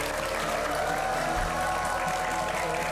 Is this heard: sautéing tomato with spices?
no